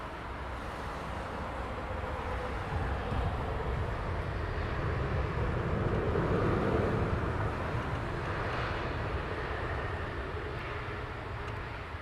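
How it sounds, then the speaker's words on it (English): An Iberia Airbus A350 taxiing at Heathrow Airport in the evening, a steady, loud jet engine rumble and whine that holds constant throughout with no voices. "Iberia A350 taxiing down."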